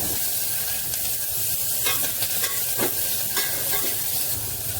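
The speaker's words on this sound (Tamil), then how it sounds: "கொஞ்சம் பெரிய வெங்காயம், கொஞ்சம் சின்ன வெங்காயம் ரெண்டுத்தையும் நான் போட்டு வதக்கிக்கிறேன்." Big onions and small shallots sautéing in a pan, a steady sizzle with the scrape of stirring running through, close and fairly loud throughout.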